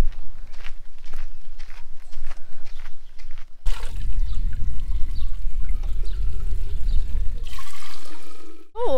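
Water runs steadily from a tap at a cemetery, a continuous splashing rush that starts abruptly after some footsteps and goes on for several seconds before cutting off.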